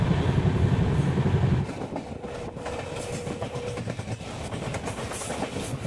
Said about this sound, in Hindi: इस वक्त हमारी ट्रेन स्किप कर रही है मलार रेलवे स्टेशन को